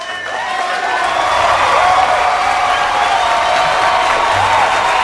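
A crowd at a live recognition event for Manuel Valverde applauding steadily, with dense, loud clapping and some cheering and whistles that hold for the whole stretch.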